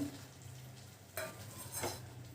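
Fried soybeans being stirred in a pan for soya chilli, a low sizzle with two soft scraping stirs, fairly quiet and without speech.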